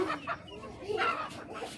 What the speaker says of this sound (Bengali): এইগুলো হচ্ছে আমার কুচে বসা আরও কয়েকটা মুরগি।